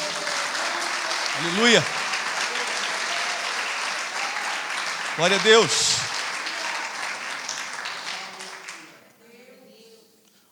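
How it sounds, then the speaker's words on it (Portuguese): A church congregation applauds Jesus during a sermon, with dense, sustained clapping that swells twice and fades out near the end, while voices call out praise over it. "Você pode aplaudir a Jesus aí?"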